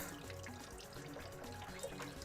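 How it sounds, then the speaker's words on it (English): A kitchen tap runs steadily while a cooked egg is peeled under the stream, a soft continuous splash and trickle into the sink without speech. "peel it under running water"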